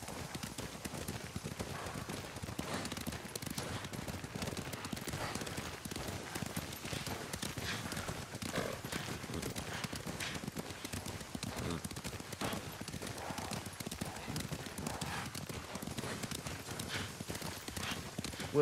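Horses gallop with a steady, dense clip-clop of hooves in the Ghost of Tsushima video game, continuous throughout under a constant background wash.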